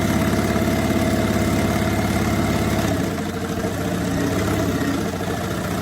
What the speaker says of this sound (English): I'm sewing this right sides together